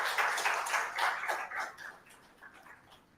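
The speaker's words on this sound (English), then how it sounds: "please join everybody in a round of applause to congratulate yourselves" Applause from an audience at an undergraduate research awards ceremony, a burst of steady hand clapping that peaks early and then thins out and fades over a few seconds.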